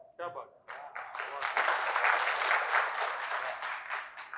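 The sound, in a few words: audience applause after a poem recital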